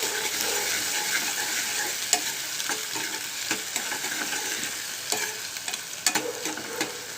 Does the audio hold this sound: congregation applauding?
no